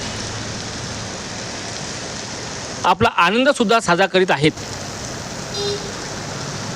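Sudden unseasonal afternoon rain hisses steadily over a city throughout, with someone speaking briefly over it midway.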